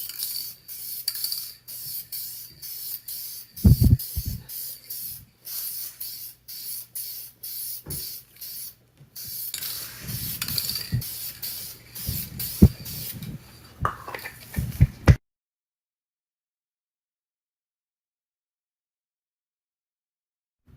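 Spray gun laying the final coat of paint across a repaired car bumper, with hissing bursts in short repeated strokes, fairly close, ending in silence.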